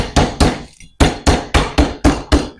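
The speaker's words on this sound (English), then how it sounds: "I just kind of whacked it against the counter." A frozen Symphony candy bar, still in its wrapper, is whacked against a kitchen counter: seven sharp, loud thuds in an uneven rhythm with a short gap after the first two, each ringing briefly.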